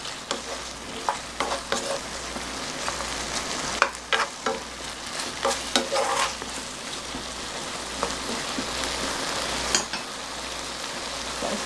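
A braise of potatoes and anchovies bubbles and sizzles in a pot as it nears the boil, a busy crackling hiss with scattered sharper pops and spoon knocks.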